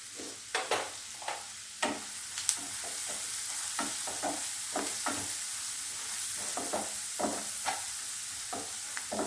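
Ginger garlic paste and turmeric fry in a pan for an egg fry, with a soft continuous sizzle broken by repeated scraping stir strokes that come in uneven bursts, close and fairly quiet.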